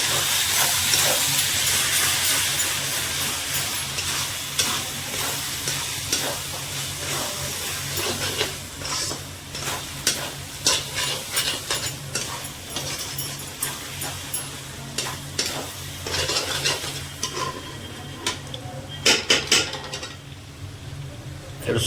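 Mutton masala is worked around a pan, its hissing sizzle steady at first and then broken by clusters of quick scraping strokes of the spoon, loud and close, with a voice faintly present at times.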